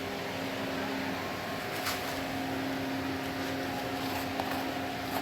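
An APTEXIMC 3000 KV fast magnet charger machine runs on mains power, giving off a steady, unbroken electrical hum with faint tonal whine that holds constant throughout.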